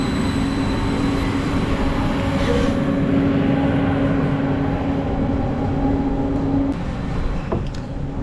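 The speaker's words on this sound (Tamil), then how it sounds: "பேசல் நகரத்துக்கு போகிறதுக்கான ரயில் வந்துருச்சு" A train bound for Basel, Switzerland rumbles into the station steadily with a low, continuous drone and a humming tone, growing slightly before easing off near the end.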